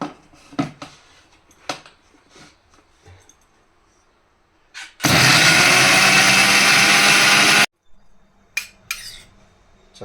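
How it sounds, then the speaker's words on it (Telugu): Mixer grinder blending falooda ingredients, a loud whirring motor roar starting abruptly after some kitchen clatter and running steadily for about three seconds before stopping dead, followed by more handling sounds. "ఇప్పుడు మిక్సీ పెట్టేసుకుందాం"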